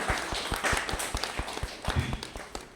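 Scattered, rhythmic clapping from a poetry-gathering audience welcomes a poet to the stage, light and moderately distant, with distinct individual claps.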